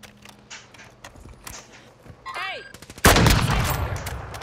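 Gunfire in the video game Warzone II, with light in-game movement noises and a few tonal effects leading into a loud, sustained burst of shots near the end.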